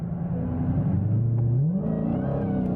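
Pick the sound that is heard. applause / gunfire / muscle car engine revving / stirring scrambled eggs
muscle car engine revving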